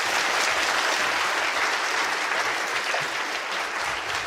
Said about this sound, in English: Big round of applause for Dora.